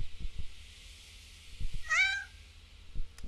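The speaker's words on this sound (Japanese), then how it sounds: "猫も一緒にいる。" A single cat gives a short, clear meow in the horror game Yomawari 3, over a quiet ambient background with a few soft thumps.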